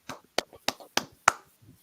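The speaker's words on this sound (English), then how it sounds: "Clap it up" Group clapping at a religious brotherhood class, five sharp, evenly spaced claps in unison, crisp and close, with a few softer hand sounds and brief murmurs between them.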